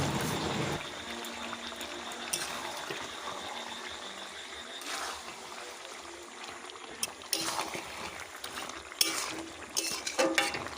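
Chicken pieces for chicken kosha cook in oil in a pan once the released water has boiled off, giving a steady soft sizzle with occasional stirring clatters and louder bursts toward the end.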